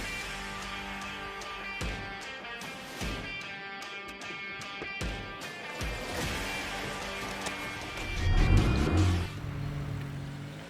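Ford Fiesta MK6 1.4 petrol engine turning over and revving, a steady close idle rising into a louder rev surge near the end, with some sharp knocks and clatters mixed in.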